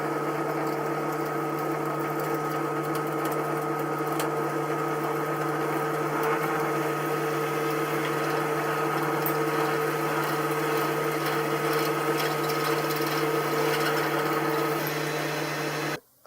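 A lathe re-drills a metal insert with a 6.5 mm bit, its motor giving a steady, even whine and hum that runs unchanged for the whole stretch before stopping abruptly at the very end, with no talking.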